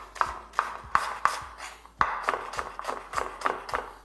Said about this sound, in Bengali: পাতলা করে স্লাইস করে কেটে নিচ্ছি